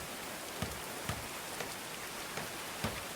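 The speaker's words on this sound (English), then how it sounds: "Look at that rain drip. Like, off the roofs." Rain falls steadily in the medieval colony-building game Going Medieval, a constant soft hiss with occasional distinct drips off the roofs landing at irregular intervals.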